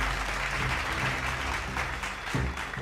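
Audience clapping at a kirtan programme in a village setting, a steady dense patter of hands lasting the whole moment, moderately loud and close, with no voices over it.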